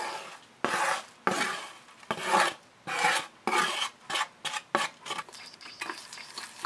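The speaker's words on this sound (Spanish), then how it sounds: "Vamos a batir." A whisk beats a lemon soufflé mixture with sugar and lemon zest in a bowl, rough scraping strokes coming in uneven bursts, loud and close, slowing into shorter, choppier strokes toward the end, with no voices.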